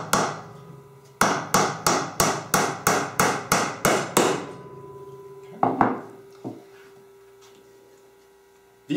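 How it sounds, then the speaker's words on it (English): About a dozen rapid, evenly spaced hammer taps drive nails into the top bar of a wooden 9 1/8 inch Langstroth beehive frame, sharp and close, followed by a couple of scattered knocks and quiet. "nail on the top bar"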